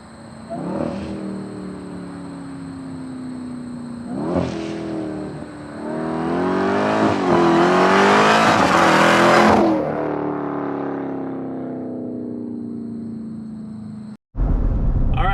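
A Jeep Trackhawk fitted with a carbon fiber cold air intake accelerates loudly and up close, its engine climbing through the revs with a rising roar and whine, easing off into a long fade before a sudden cut.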